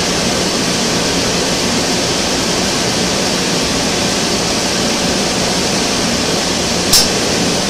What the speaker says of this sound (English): And the boiler has lit.